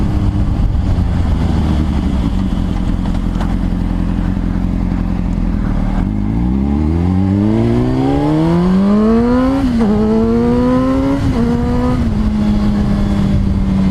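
A 2005 Honda CBR600RR motorcycle engine idles steadily, then revs up in a long rising sweep, drops, and gives several more short blips before settling back to a high idle. Loud and close, with no talking.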